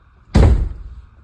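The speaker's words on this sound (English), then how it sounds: "I gotta close my door." A Camaro car door shuts with a single loud, solid thud, close by, followed by a brief fading rumble.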